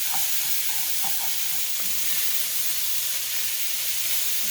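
Onions and celery sautéing in canola oil in a pan, a steady close sizzle and hiss with faint occasional stirring scrapes, no voices.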